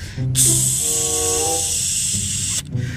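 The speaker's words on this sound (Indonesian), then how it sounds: "Ini ada kereta api Thomas teman-teman." A toy Thomas the Tank Engine themed train gives off a long, loud steam-like hiss lasting a couple of seconds, framed by brief tonal whistle sounds at the start and end.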